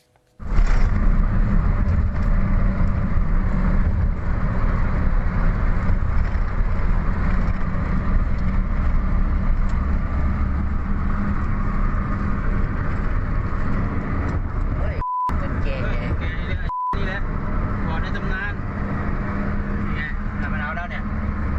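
Steady road noise and engine drone from a car on a road, recorded by a dashcam, run loud and continuous throughout, with a voice talking over it and two brief beeps near the end.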